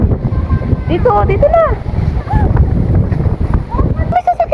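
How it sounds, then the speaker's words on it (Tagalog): Strong storm wind gusts roar across the microphone outdoors while a family walks along a street during a typhoon. Steady buffeting rumble throughout, with brief talk and a voice over it. "Kakatakot ng hangin."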